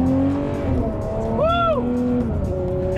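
A Ferrari 599 GTO engine with a baffled exhaust drones steadily from inside the moving car, its pitch swelling up and falling back in one smooth rev mid-clip over constant road rumble.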